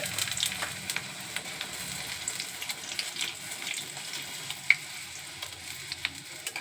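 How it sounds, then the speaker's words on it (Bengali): Raw green pea-stuffed kachoris deep-fry in hot oil in a kadai. A steady crackling sizzle carries a few sharp pops and light clinks, with no voices. "এইবার ছাঁকা হবে আর হাতে গরম কড়াইশুটির কচুরি"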